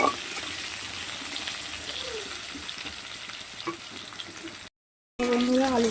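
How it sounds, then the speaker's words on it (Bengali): Steady sizzle of potatoes frying in hot oil, with occasional stirring clinks, before a brief pause and a voice speaking. "আলুগুলোকে একটু লাল লাল করে ভাজবো"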